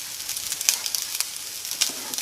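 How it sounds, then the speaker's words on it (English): Egg fried rice sizzling steadily in a pan on a home stove, a constant bright crackle with small pops scattered throughout, fairly close and alone with no talk. "that's sizzling away nicely"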